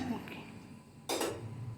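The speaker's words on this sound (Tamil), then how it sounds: "இதில் வந்து நான் அந்த பாத்திரத்தை வைக்க போகிறேன்" A metal rice pot is set down with one sharp clank against a quiet indoor background.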